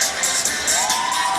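A crowd at a boys' high school volleyball championship match between Taft and Chatsworth cheers and shouts loudly. The roar holds steady and swells briefly, with whoops rising above it, and no commentary is heard.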